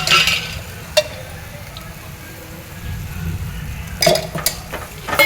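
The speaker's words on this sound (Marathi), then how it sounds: "कारलं छान परतून घेतली." Bitter gourd (karela) sautés in oil in a pan. A steady soft sizzle runs underneath, broken by sharp scrapes and clinks of a spatula against metal, clustered near the end.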